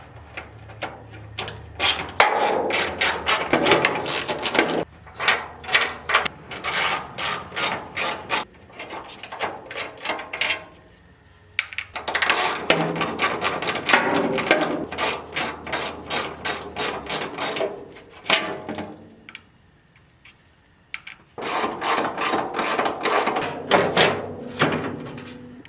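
A ratchet wrench works 10 mm bolts loose in the engine bay of an old, dusty Mazda RX-7, with rapid clicking bursts in repeated runs, close and clear, broken by short pauses.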